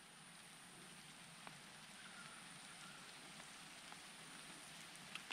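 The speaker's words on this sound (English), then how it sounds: "Yeah, it's raining." Rain falls steadily in a forest as a soft, even hiss with a few faint droplet ticks, quiet and continuous with no voices.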